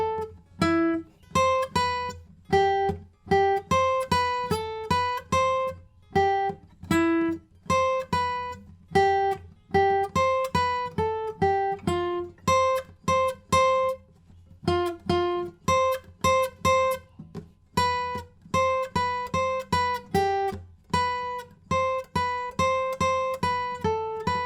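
Guitar playing the main riff of a song without a capo, a looping pattern of plucked single notes over a low steady pulse, rhythmic and clear, heard alone without voices.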